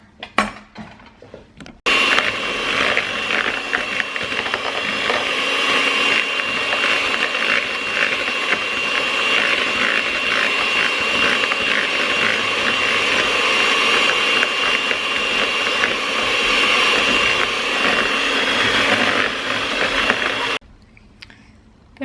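An electric mixer whips cream until thick for mini cheesecakes, a steady whirring, rattling motor drone that starts abruptly, runs nonstop for about twenty seconds close by, then cuts off.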